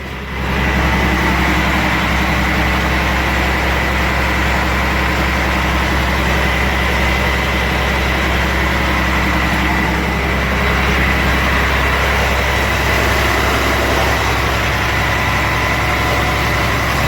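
A diesel truck engine with fuel leaking onto the exhaust idles steadily, a continuous low, heavy rumble with no break and no talk, close by.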